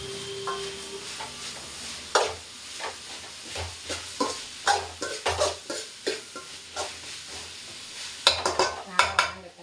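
Tomatoes sauté in a pan for chicken gravy, with a gentle sizzle broken by frequent clinks and scrapes of a spoon stirring, louder bursts near the end.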